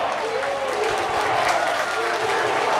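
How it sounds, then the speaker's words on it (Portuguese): A football crowd at a Paulistão A2 match between XV de Piracicaba and Rio Claro jeers the coach, a broad, sustained roar of many voices with clapping mixed in, loud and continuous throughout. "E a torcida pega no pé do Paulo Roberto por tirar o Guilherme Teixeira"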